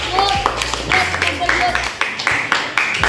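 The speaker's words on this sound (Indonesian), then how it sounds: "tepuk tangan" A classroom of students claps hands together in a few quick rhythmic bursts while a teacher's voice speaks over them.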